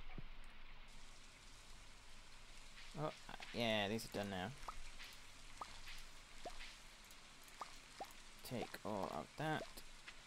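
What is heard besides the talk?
heavy rain in the video game Stardew Valley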